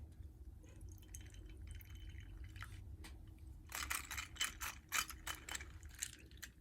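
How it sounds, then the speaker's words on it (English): Dusty flea market objects are washed under water, with a low steady rush of flow and then a cluster of sharp clinks and knocks as the hard pieces are handled near the sink. "they have a little bit of dust on them, so I'm gonna wash them off"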